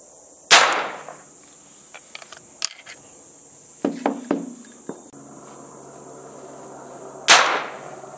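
Three .22 LR rounds fired from a 12-gauge shotgun outdoors give sharp, fairly loud cracks at irregular intervals, with faint clicks and handling noises between shots and a quiet background hum.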